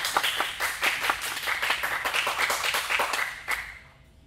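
A small audience claps steadily for a performer at a junior recital, dense overlapping claps that fade out at the end.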